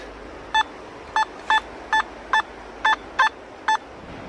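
Metal detector sounding over a buried target in autumn ground at the site of a 19th-century shooting range, a run of eight short, sharp, evenly pitched beeps in an irregular rhythm over faint background hiss.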